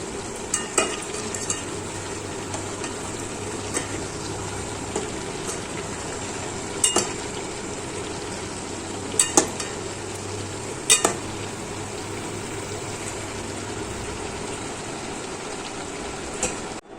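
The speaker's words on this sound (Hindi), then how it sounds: "एक साइड हो चुका, इसको हम पलट देंगे, दूसरा साइड भी फ्राई कर लेंगे।" Afghani chicken pieces fry in a pan with a continuous close sizzle and stirring, punctuated by a few sharp clatters as the pieces are flipped over.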